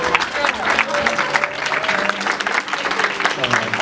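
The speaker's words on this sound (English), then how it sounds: "Can I get another round of applause for all of the candles that came up?" Audience applause at an 18th birthday celebration's candle-lighting program, a steady wash of clapping from a crowd with voices and cheers mixed in throughout.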